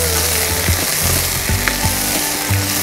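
Ash gourd, pumpkin and brinjal frying in a pan for a Karnataka-style mixed vegetable dish, a loud steady sizzle with several scraping stirs of a spoon against the pan, no talking.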